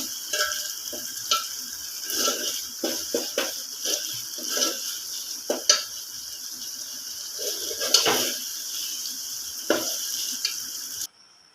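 Egg curry masala being stirred in a pan until it turns reddish, with soft sizzling and repeated scraping stirs close by, no voices, ending abruptly.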